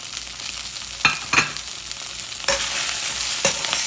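Garlic and thick-cut onion frying in a hot pan for a beef pepper steak stir fry, a steady close sizzle with a few louder bursts as the pieces are stirred and tossed.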